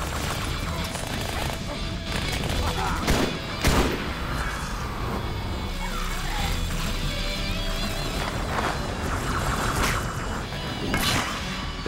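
Halo 2 video game combat, a dense barrage of gunfire, impacts and explosive booms with sharp cracks near the start and end, loud and continuous over a rumbling backdrop.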